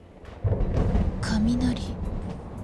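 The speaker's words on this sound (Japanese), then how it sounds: "雷。" Thunder rumbles through a rainy Yakuza Kiwami cutscene: a low, rolling boom swells and lingers under a steady rain hiss, with a voice speaking briefly over it.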